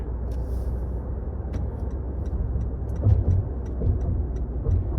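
A Toyota Prius driving on a road, a steady low rumble of tyres and engine noise close inside the cabin, continuous with a few faint bumps and no voices.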